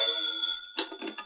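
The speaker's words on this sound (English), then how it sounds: "the phone rang." An old telephone bell rings in a hotel room, a sustained metallic ring that fades, then a second shorter burst of ringing, close and clear.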